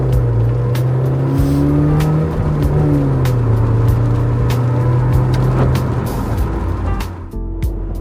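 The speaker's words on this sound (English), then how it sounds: "I absolutely love driving this car" A car is heard from inside while it drives along a road, its engine a steady, loud drone that shifts slightly in pitch, with small clicks and knocks from the cabin and no talking.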